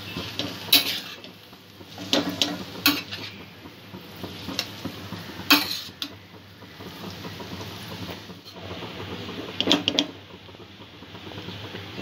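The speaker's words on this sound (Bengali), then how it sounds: "আবারও সব কিছু ভালো করে মিক্স করে নেব।" Egg chowmein ingredients are tossed and stirred in a pan, with repeated sharp metallic clinks and scrapes of a utensil against the pan over a faint sizzle, irregular strokes throughout.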